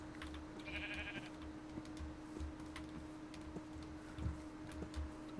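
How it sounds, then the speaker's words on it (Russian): A sheep in the Minecraft video game gives a short, faint bleat early on, set against quiet in-game ambience with soft ticking clicks scattered throughout. "Овца! Где вторая овца?"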